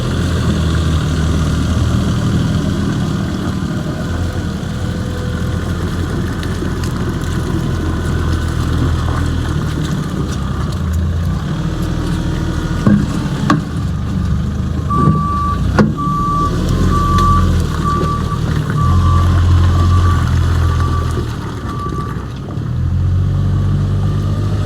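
Farm tractors pull out of a shed, steady engine rumble running throughout while a loud, regular reversing beeper chimes repeatedly in the middle stretch, with no talking.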